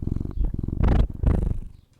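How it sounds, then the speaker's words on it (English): A cat purrs close to the microphone, giving a rumbling, rhythmic vibration in pulsing waves. The purr swells twice and then fades out. "Here's the cat."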